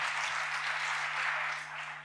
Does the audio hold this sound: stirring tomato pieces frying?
no